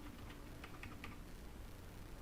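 Rapid typing on a computer keyboard, a quiet run of light clicking keystrokes heard alone over a steady background hiss, with no talking.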